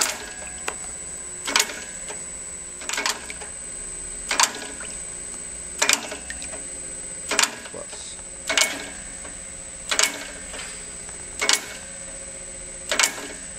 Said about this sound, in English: The minimum dosing increment for an Accu-Staltic pump is 1/6 of a revolution,